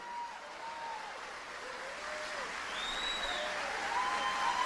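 A church congregation claps in a dense, continuous wash of applause that swells slightly louder toward the end, with faint tonal sounds drifting in the background.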